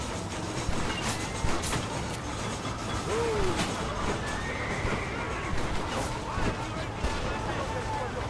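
A horse whinnies in the Red Dead Redemption video game, a brief rising cry partway through, set against a dense, busy game soundscape with hoof clatter and rumbling, while someone talks over it.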